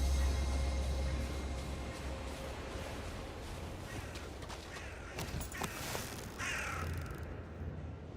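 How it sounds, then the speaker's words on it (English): Crows cawing in Valheim, a hardcore permadeath run, with several harsh caws scattered over a steady low ambient rumble and faint footsteps in the world. "Birds."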